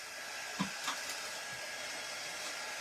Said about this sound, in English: will it dry if I hit it with the dryer?